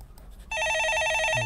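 A telephone rings in a radio call-in studio with a bright, steady electronic ring that starts abruptly after a short quiet stretch and continues without a break.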